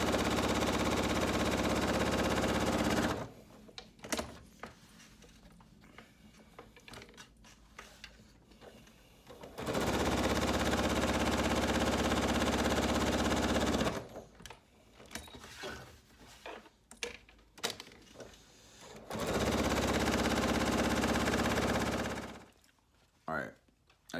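A sewing machine stitches a half square triangle strip in three loud, steady whirring runs, separated by quieter stretches of clicks and handling noise.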